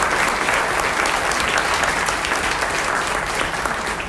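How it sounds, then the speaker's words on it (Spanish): An audience at a cultural conference breaks into strong, continuous applause, a dense even wash of clapping lasting about four seconds, slightly fading at the end, with no voices. "Gidalti Vargas Cortés, quien también pido con un fuerte aplauso que la recibamos"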